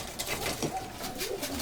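Pigeons cooing in a loft, soft throaty rolling coos rising and falling close by, with light rustling and a faint background bird call.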